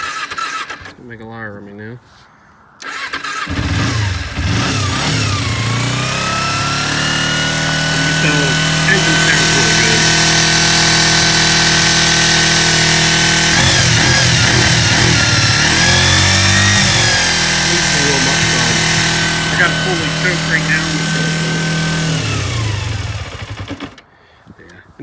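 An old motorcycle on a freezing cold day is choked and starts after a short crank, then runs at a steady idle with some throttle changes. Someone speaks briefly before it fires.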